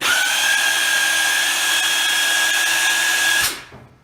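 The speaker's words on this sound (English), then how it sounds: "I just had to turn my air line onto my compressor there" Air compressor feeding an air line in a shop restoring a 1972 Datsun 240Z, a loud steady whine with a sustained tone that runs alone for about three and a half seconds, then cuts off abruptly and fades.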